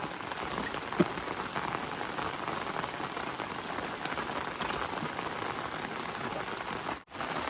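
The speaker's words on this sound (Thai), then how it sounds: "ฝนแล้วก็เริ่มหนักขึ้นทุกที ทุกทีครับ" Heavy rain pours over a reservoir during a Thai fishing trip, a loud, continuous patter of drops on surfaces with a sharp tap near the start and a brief dropout near the end.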